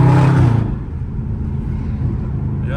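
A Dodge Charger Scat Pack in track mode downshifting, a loud engine blip that drops quickly into a deep, steady rumbling drone from inside the car.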